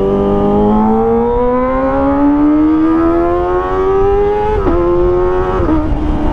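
Kawasaki ZX25R motorcycle with an Arrow Pro Race exhaust warming up, a loud, close, high-pitched engine wail climbing steadily in pitch as the revs rise, then dipping briefly near the end, with no voices.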